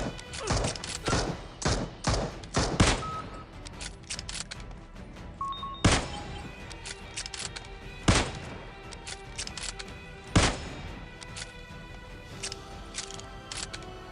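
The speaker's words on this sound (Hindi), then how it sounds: "और दूसरा प्रोन होके फायर कर रहा।" Gunfire in the PUBG Mobile battle royale game, a squad fight against bots with one enemy firing while prone: sharp shots in quick bursts early on, then isolated loud cracks spaced a few seconds apart over a steady game background.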